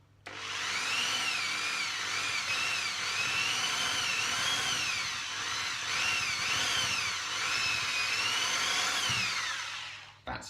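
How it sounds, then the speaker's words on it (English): A power drill with a metal bit boring into marinated pork, a loud, continuous whine that rises and falls in pitch as the bit struggles through the meat and gristle, lasting about ten seconds before stopping abruptly. "A metal drill bit struggling to go through me pork."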